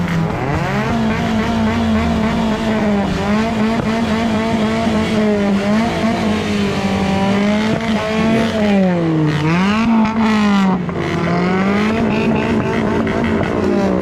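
Several modified motorbikes fitted with Akrapovic exhausts rev loudly and continuously at a college auto expo, their engine notes rising and falling in sustained blasts with no talking.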